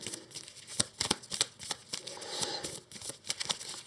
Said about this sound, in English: We shuffle the deck because we have to search the whole deck.